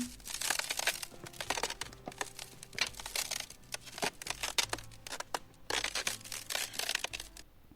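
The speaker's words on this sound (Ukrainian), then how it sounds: "А це звук тріскання льоду під ногами." Ice cracking and crunching underfoot on a winter surface, a dense run of crisp, crinkly snaps and crunches in irregular bursts, fairly close and steady throughout, with no talk.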